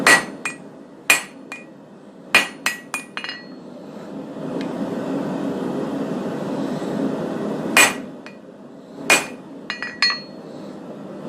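A hammer rings sharply on hot steel while tapering a hammer drift at the anvil, with bursts of close, clinking blows separated by a quieter stretch of low hum.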